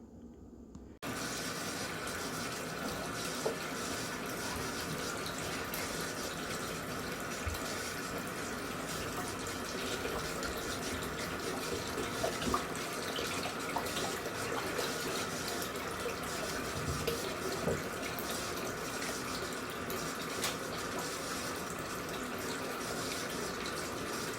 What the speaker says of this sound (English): you can tell I've got the sink filling up with super hot water